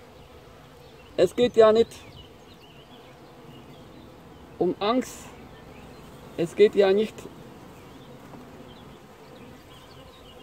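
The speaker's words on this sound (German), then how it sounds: "So hängt sich die Biene an dem Futter." Bees buzzing around a feeder at a nucleus colony, a steady hum in the background while someone talks in German in three short bursts.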